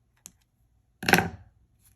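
Scissors snipping through comic book paper being cut into strips for beads, one soft click and then a single close, crisp cut, with no voices.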